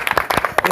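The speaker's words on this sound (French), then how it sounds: "On applaudit, on applaudit." A church audience gives a brief burst of clapping, a few loose, uneven hand claps over less than a second, fairly close and loud.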